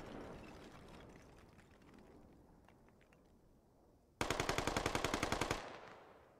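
In the video game Squad, gunfire is heard: faint scattered shots early on, then a loud, rapid burst of automatic fire lasting over a second, with a distant battlefield rumble behind it.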